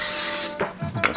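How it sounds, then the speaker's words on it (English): Olive oil cooking spray hisses into a pan in one continuous half-second burst, followed by a few soft scraping and tapping handling sounds. "Just a little bit of olive oil spray there."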